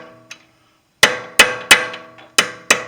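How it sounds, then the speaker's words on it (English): A hammer strikes a punch to stake a CV axle nut on a BMW 328i, giving six sharp metallic clangs in an uneven rhythm, close and loud with brief ringing decay. "just take your hammer and punch. Punch it down there."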